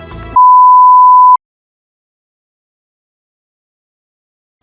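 A loud, steady electronic alarm tone in the Ratchet & Clank video game sounds once for about a second, then cuts to silence.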